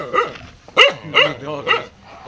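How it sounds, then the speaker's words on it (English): A dog barks four or five times in a short, irregular volley, fairly close and loud, with a whimpering yip between barks, near a house in a village in Bali. "My dog. My dog."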